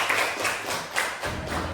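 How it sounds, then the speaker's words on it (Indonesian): Classroom applause from students and teacher, a steady patter of hand claps filling the room for under two seconds with no voices on top. "Kita beri tepuk tangan dulu."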